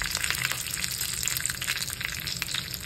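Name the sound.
mustard seeds, cumin and curry leaf sizzling in hot oil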